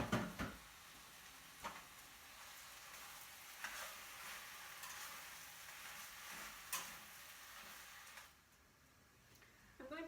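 Partially thawed liver chunks fry in a pan for pâté, giving a faint, steady sizzling hiss with a few soft clicks and knocks, fairly quiet and without talk.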